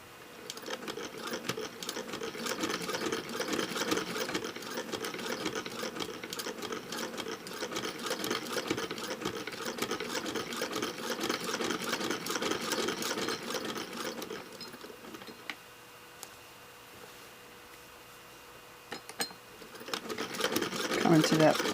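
Sewing machine stitching fabric at a quilted point seam, running steadily and close for about fifteen seconds, pausing briefly while pins are pulled, then starting up again at the end.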